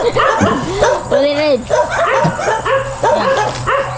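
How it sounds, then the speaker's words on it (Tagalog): Dogs in a Philippine village bark and yip repeatedly at mid distance, mixed with short whimpering cries, while people talk over them throughout. "At saka yung mga aso. Ayan, tahol ng tahol."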